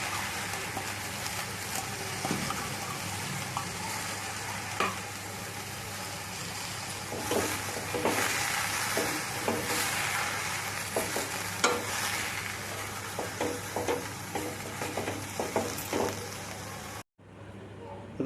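Cowpea leaf vegetable with soaked moong is stirred and fried in a pan, making a continuous sizzle with repeated scraping and stirring strokes, and a low hum underneath before it cuts off abruptly near the end.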